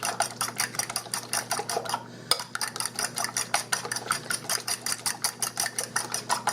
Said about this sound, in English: Whipping these all together with a fork.